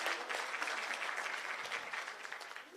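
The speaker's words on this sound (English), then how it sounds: "A round of applause to the ladies" At a Women's Day celebration, an audience gives a round of applause for the ladies, a steady wash of many hands clapping at moderate volume for a few seconds without talk.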